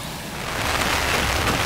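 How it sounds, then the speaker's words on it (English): Steady rain pattering on a safari vehicle near the main entrance to Chobe, a dense continuous hiss of drops that swells slightly and carries no voices. "Alright, it is raining, as you can see from the dripping water buffalo, possibly."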